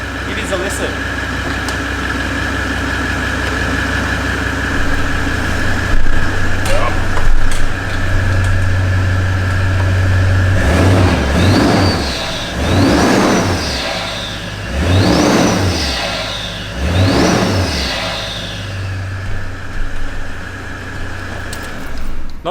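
Toyota 70 series Landcruiser with a Legendex snorkel and airbox idles loudly up close, then revs four times in a row, each rise and fall of the engine note distinct, with a low steady drone between blips and no talking.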